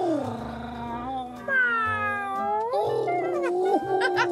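Celebrities imitate a cat, their voices producing drawn-out, wavering meows and caterwauling yowls one after another, loud and close, with pitch sliding up and down.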